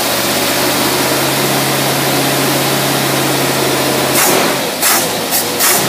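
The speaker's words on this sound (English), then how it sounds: "I'm running with the choke on right now." An old engine fitted with a Carter WCFB carburetor runs with the choke on, a loud steady droning hum close by that breaks into rougher bursts near the end, with no one speaking.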